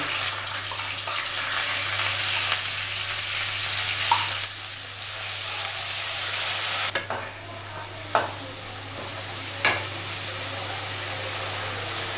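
Whole spices and fried onion paste with sour yogurt tempering in hot oil for achari chicken rezala, a steady close sizzle with a few sharp crackles and spoon scrapes, no talk.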